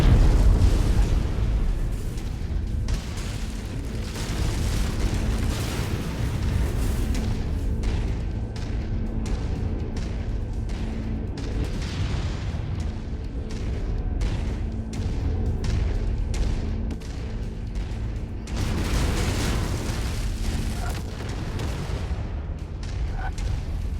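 Repeated explosions of destroyed targets in the MechWarrior 5 video game, loud booming bursts with low rumble, coming in a dense run of many blasts over a continuous battle din, with no voices over it.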